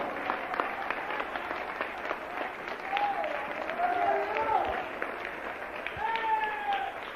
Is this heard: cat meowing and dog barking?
no